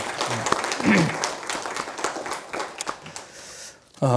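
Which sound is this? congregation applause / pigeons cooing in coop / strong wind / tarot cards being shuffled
congregation applause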